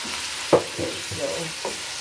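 Homemade meatballs sear in a hot frying pan with a steady sizzle, broken by a few close scraping stirs and spatula knocks.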